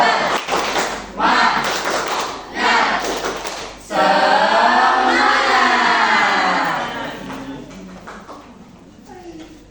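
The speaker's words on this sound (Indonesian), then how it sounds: "Kita akan melakukan tepuk semangat." A school class does rhythmic spirit clapping together in a classroom, several loud bursts of unison claps and chanting children's voices, followed by a longer shouted group cheer that fades out.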